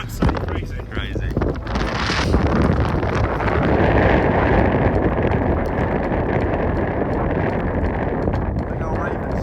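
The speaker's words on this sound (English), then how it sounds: "A bit windy, a bit wet" Strong mountain wind on Pen y Fan roars steadily across the microphone, loud and broadband throughout, with gusts buffeting near the mic and a person's voice faintly mixed in.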